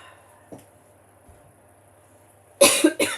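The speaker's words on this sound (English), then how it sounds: "I'm still going to cough." A speaker presenting small round magical scene pieces coughs in several loud, close bursts near the end, after a quieter throat sound earlier and mostly quiet room tone.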